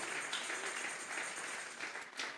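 Congregation applauding during a Sunday church service, a faint, continuous wash of distant clapping that swells slightly near the end.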